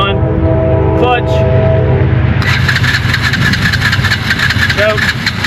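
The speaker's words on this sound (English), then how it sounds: "I have not started it in almost 2 hours." A Yamaha Blazer 125 being started after sitting for two hours, with the key on and the clutch pulled in; a loud, close, mid-pitched engine note that catches partway through and settles into a steady rough run.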